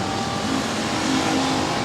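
Race cars roar down the backstretch on the final lap at Boothill Speedway, a dense continuous engine drone with a passing whine, heard from a distance without talking.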